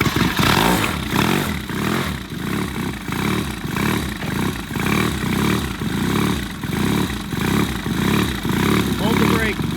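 A vintage British motorcycle being kicked over to start, its engine giving repeated rhythmic chuffing strokes and clatter at close range, with people talking over it.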